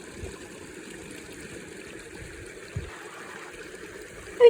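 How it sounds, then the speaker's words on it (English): A small mountain stream at Mt Shasta, California, flows steadily with a soft, continuous trickle. It is fairly faint and heard alone, with one or two small knocks. "here we are, by a little stream."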